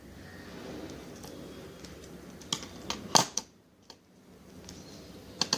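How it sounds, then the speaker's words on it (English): Scissors trimming the excess from a plastic sheet for homemade stickers, a few sharp close snips and clicks clustered in the second half over a quiet background. "Take the plastic and cut the part that's extra."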